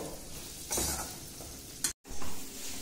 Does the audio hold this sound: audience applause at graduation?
no